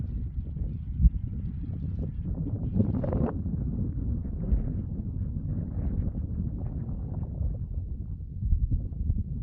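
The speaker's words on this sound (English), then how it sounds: "It's supposed to be pretty windy today." Steady wind gusts buffet the microphone outdoors on a dusty ranch, a continuous low rumble with occasional louder bumps, and no talk over it.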